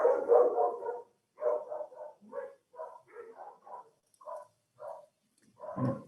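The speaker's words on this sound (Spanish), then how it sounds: "Me disculpo por el ruido de los perros" Dogs bark in a string of short, separate bursts with brief pauses between them, moderately close and fairly loud, with no talking.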